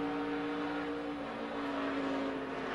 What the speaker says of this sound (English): You can hear Sam pedaling the car